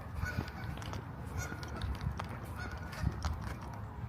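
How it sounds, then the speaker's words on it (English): Geese honk far off in a San Francisco park, faint and intermittent beneath steady outdoor background noise. "I hear them honking in the distance."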